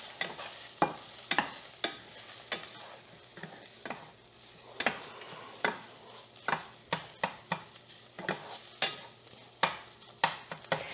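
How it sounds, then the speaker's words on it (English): Egg being stirred with chopsticks in a hot frying pan for egg fried rice, with repeated sharp scraping taps over a steady background sizzle, close and fairly loud, no talking. "Stir it around till it's almost solid."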